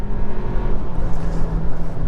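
A 2024 Hyundai Kona subcompact SUV's turbo engine drones loud and close, a low throaty roar with a steady thrum, as if pulling hard under acceleration.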